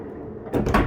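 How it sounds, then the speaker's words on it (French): Sliding side door of a 2021 Volkswagen Transporter T6.1 moving, a short burst of rolling and a solid close arriving after a quiet start, fairly near. "Ensuite, je vais te montrer la porte latérale."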